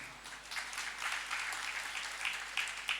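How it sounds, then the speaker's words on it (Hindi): An audience breaks into steady applause for several seconds during a Hindi spiritual discourse, a dense roomful of hands clapping with no speech over it. "तुम ताली बजा रहे हो हैं?"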